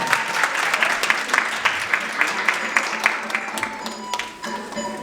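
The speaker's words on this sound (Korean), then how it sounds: "박수 한번 부탁드립니다." A crowd at a youth counseling and welfare center's annual report meeting claps loudly and steadily, dense applause that thins toward the end with a few scattered claps and faint voices.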